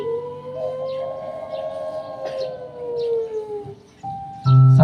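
An ambulance siren wails in long, sweeping tones that glide down in pitch, fairly loud and steady, then shifts to a different steady tone before ending.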